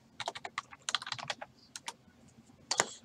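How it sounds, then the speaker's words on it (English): Rapid typing on a computer keyboard, irregular bursts of close, crisp key clicks with brief pauses between, heard alone without talk. "we're going to type in the names here"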